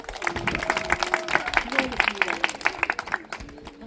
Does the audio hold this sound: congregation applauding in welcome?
yes